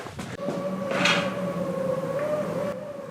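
Wind howls through an abandoned sanatorium in a long, steady moaning tone with a brief swell in the middle, heard alone and fairly faint against the quiet inside.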